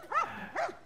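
A dog in The Last of Us, two short clear barks spaced about half a second apart, close and fairly loud against quiet background.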